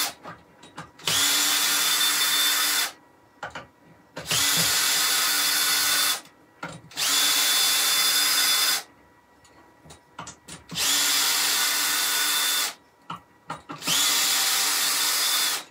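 A power drill unscrews a lathe faceplate in a woodturning workshop, running in four loud, steady bursts of about two seconds each, with short pauses and small clicks and handling noises between them.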